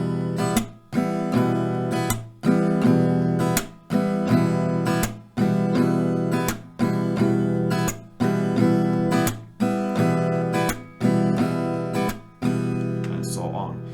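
An acoustic guitar is strummed in a steady repeating pattern with percussive down and up strokes, each chord played for two strumming rounds, bright and close throughout.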